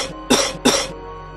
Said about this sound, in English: He coughed loudly for another minute or two